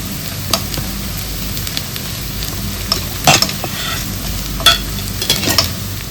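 Turmeric and chili powder are stirred into pumpkin chickpea masala frying in a pan, with a steady sizzle and close, irregular scrapes of the spoon.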